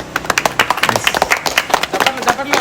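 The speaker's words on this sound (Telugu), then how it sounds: "claps claps" A small group of people applaud at a title reveal, quick uneven hand claps close by, layered with brief voices talking and cheering in the background.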